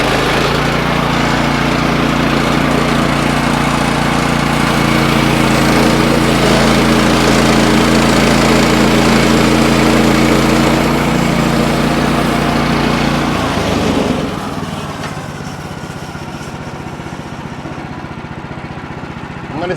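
Timber frame sawmill running loud and steady through a cut of three timber bunks at once, a heavy engine drone that drops to a lower idle near the end.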